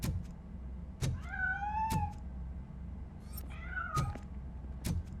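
A cat in the RoboCop: Rogue City video game meows twice in drawn-out, rising and falling cries, close and clear, with sharp clicks and thumps at intervals and no talk.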